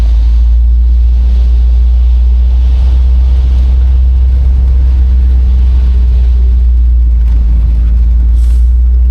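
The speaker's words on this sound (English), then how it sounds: "Let's go ahead and drop her in the gear." A 1978 Corvette with a 350 engine pulls away, its deep steady engine rumble loud and close throughout, with a brief rise near the end.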